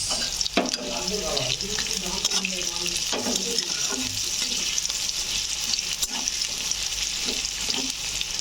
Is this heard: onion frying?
yes